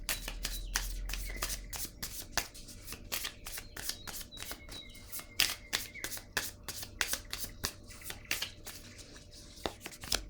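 Deck of playing cards being shuffled by hand, a steady run of crisp riffling snaps and slaps repeating close to the microphone throughout, with no voices.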